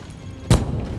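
A single grenade explosion in The Division, one short muffled boom landing midway through a low background hum.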